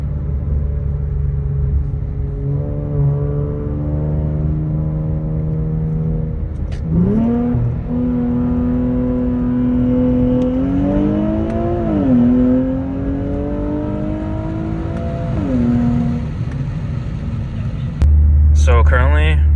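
An Infiniti Q60 on drag slicks cruises on the road with a steady low engine drone and a tonal whine that rises and falls as it shifts and accelerates. People talk over the engine sound.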